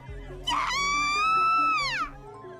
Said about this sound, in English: Arimura began to scream, her voice joining the cacophony created by the other students, screaming students